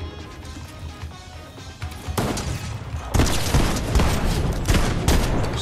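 Rapid shotgun blasts and crashing impacts during a ranked video game fight, dense, loud and overlapping, building in intensity toward the end with no talk over them.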